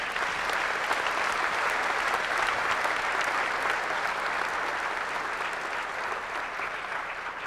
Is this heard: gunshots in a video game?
no